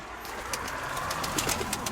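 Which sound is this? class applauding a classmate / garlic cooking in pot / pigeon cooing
pigeon cooing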